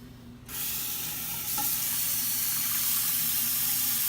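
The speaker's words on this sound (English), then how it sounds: "Now we add water." Water pours from a tap into a pot holding kombu seaweed, shiitake mushroom stems and bonito flakes, starting abruptly as a loud steady rushing gush that grows fuller as the pot fills, with no talking.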